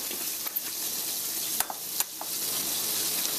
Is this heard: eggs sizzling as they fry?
yes